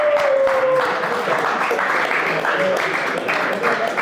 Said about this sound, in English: So give yourself a huge round of applause for being here today.